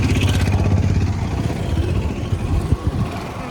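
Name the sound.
motorcycle riding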